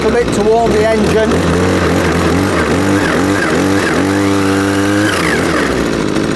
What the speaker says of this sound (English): Just rev it a little bit to warm the engine.